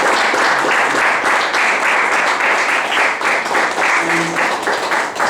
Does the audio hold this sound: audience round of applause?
yes